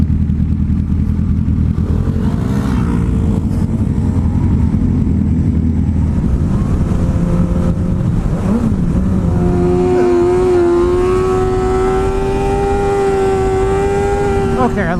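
Motorcycle on Ortega Highway revving hard and accelerating into a small wheelie, a loud continuous engine roar that climbs in pitch, with a voice talking over it.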